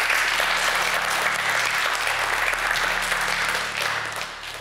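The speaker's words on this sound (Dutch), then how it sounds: "Applaus." Studio audience applause in a TV show, a broad, even wash of clapping that holds steady and then tapers off near the end.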